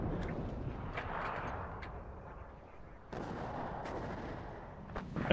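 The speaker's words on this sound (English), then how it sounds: "their artillery has started to come in" Artillery fire rumbles in the WARNO war game, a steady low roar of distant shelling broken by a fresh heavy blast midway and sharp crackling shots, with faint talk underneath.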